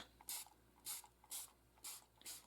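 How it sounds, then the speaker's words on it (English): A hand-held spritzer spray bottle is squeezed five times in a steady rhythm to mist an acrylic painting, each short, close hiss cutting off cleanly before the next. "I'm going to take my spritzer. I'm going to lightly spray it"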